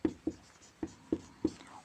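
Handwriting a chemical name, likely chalk or pen strokes on a board during an organic chemistry lesson: five short, distinct taps and scratches in an uneven rhythm, close and fairly quiet, with no talking.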